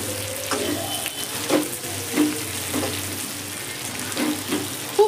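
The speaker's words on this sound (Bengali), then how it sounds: "মাংসটা আমার খুব ভালো করে ভাজা হয়ে গেছে।" Chicken meat frying in oil, a constant sizzle with several distinct stirring scrapes and utensil knocks spaced through it, close and moderately loud.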